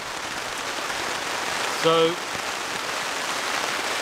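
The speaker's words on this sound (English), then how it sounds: "the rain is absolutely pelting down on this tarp" Heavy rain pelting steadily on a brand new tarp at a solo overnight camp, a dense constant hiss throughout, with a brief voice near the middle.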